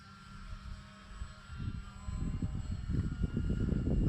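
A Dynam Waco RC model biplane flies with a steady engine drone that swells louder over the last half, with wind buffeting underneath.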